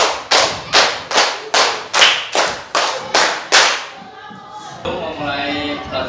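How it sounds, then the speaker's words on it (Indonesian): A group of people, likely a class with a teacher, claps in unison in a five-clap pattern done twice, sharp rhythmic claps close and loud, followed by a quieter stretch with some faint voices. "Tepuk 5 2 kali."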